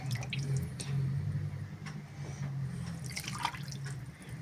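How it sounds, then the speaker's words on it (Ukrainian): Broth for homemade aspic made from three kinds of meat is ladled and poured through a small sieve, a soft, steady trickle with light drips and gentle splashing, close and quiet. "Отак набираємо і через ситочку наливаємо."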